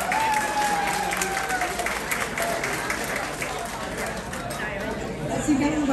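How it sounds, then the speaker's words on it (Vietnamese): An audience at a Vietnamese community fundraising event applauds steadily at moderate loudness, a dense wash of clapping with crowd chatter mixed in throughout. "Chúng ta xin một tràng pháo tay ủng hộ ông hết mình,"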